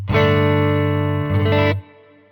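An electric guitar chord played through a Quad Cortex rings out clean and sustained with a light reverb, then is cut off. There is no talking.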